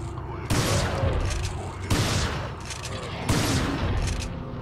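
Shotgun blasts fired in Resident Evil 4, three loud booming shots at steady intervals, each with a sharp onset and a long rumbling decay, over a dense background of game noise.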